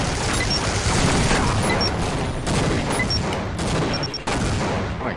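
Continuous video game gunfire in a 4v4 match, dense overlapping shots and bursts filling the whole stretch, loud and close.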